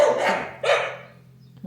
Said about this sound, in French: Mon chien qui aboie sur les oiseaux